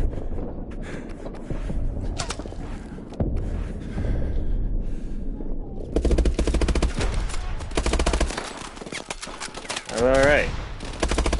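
Battlefield gunfire in the Call of Duty: Advanced Warfare campaign, with rattling automatic bursts that swell into a loud, dense volley midway, followed by a sweeping electronic whine. A voice speaks briefly over the shooting.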